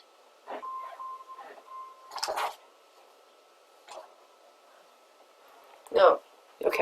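A printer whirs and clicks in short mechanical bursts with a thin tone, separated by quiet gaps, fairly close.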